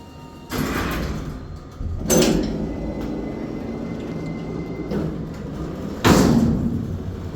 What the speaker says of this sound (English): Peely 2-speed vertical door.